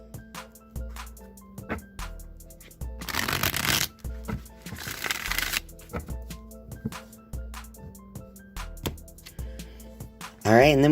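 Two crisp bursts of Rider-Waite tarot cards being shuffled, close up, set among light taps and handling of the deck over a faint steady hum, with a brief louder noise at the end.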